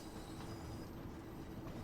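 A London Midland train passes in Train Sim World 5, heard as a steady, moderately distant rail rumble with faint wheel hiss and no talking.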